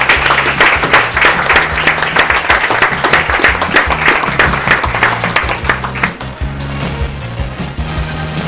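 An audience at a school board meeting breaks into a dense round of hand clapping, loud and steady for several seconds before thinning out toward the end.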